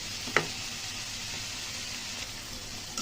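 Ash gourd fries with salt in a little oil, giving a steady, moderate sizzle with a brief clatter near the start and soft stirring scrapes, and no voices.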